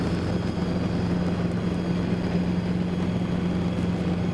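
A Robinson R22 helicopter produces a steady, loud, continuous engine and rotor drone with a constant low hum, without talk.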